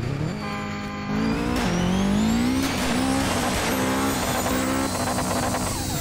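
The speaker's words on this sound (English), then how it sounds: "the turbo noise doesn't go with RPM like it does on half the other" A 2000-horsepower Subaru Legacy in a Roblox driving game revs with a rising engine drone and turbo whine, steady and close, with tire squeal layered over the continuous engine tone and no talking.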